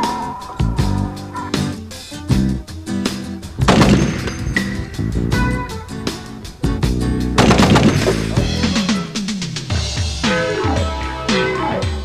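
A full-auto belt-fed machine gun rated at 1,200 rounds per minute fires long, loud, rapid bursts with short pauses between them and sharp echoing cracks, and no voices are heard.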